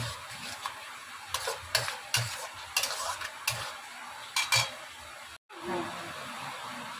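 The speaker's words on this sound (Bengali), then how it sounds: "পেঁয়াজ ক্যাপসিকামটা বেশি সেদ্ধ হবে না এর জন্য একটু পরে দিলাম দিয়ে একটু নাড়াচড়া করবো" Onion and capsicum are stirred in a pan for paneer capsicum masala, with repeated close spatula scrapes over a soft sizzle and a brief moment of silence near the end.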